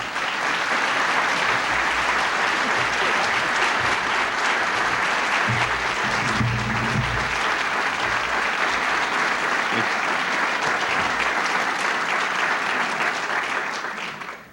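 A large audience at a presidential award ceremony applauds steadily for the introduction of Treasury Secretary Bob Rubin, a dense, even wash of clapping lasting about fourteen seconds before cutting off, with brief low voices beneath around the middle.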